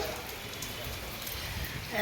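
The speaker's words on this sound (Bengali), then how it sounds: "একদম কালো করে বৃষ্টি শুরু হয়ে গেছে আর একদম কনকনে ঠান্ডা হাওয়াটাও দিচ্ছে" Rain falls in a cold, dark downpour, producing a soft, even hiss that runs continuously across the short stretch.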